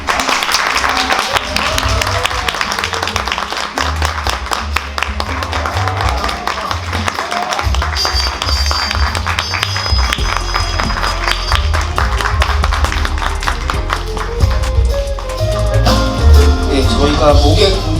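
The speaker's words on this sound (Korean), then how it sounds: "큰 박수 부탁드립니다." Sustained applause from a large cinema audience at a film Q&A event in CGV Myeongdong, Seoul, dense and steady clapping throughout, with a low rumble beneath it.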